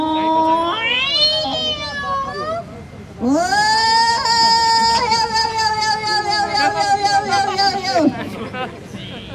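A person's voice imitates a cat, giving two drawn-out, wavering meows, a shorter rising one then a long, strained caterwaul-like call, loud and close with faint background chatter.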